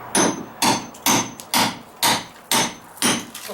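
Hammer blows strike a block being split, seven sharp, evenly spaced impacts about half a second apart, close and loud with no talking.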